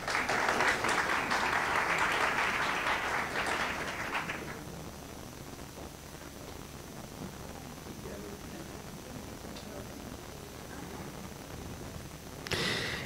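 Audience applause for the mediators of Paraguay's National Directorate of Intellectual Property at an Intellectual Property Day 2023 ceremony: a dense burst of clapping fills the hall for about four seconds, then fades to quiet room tone, with a short flurry returning at the end.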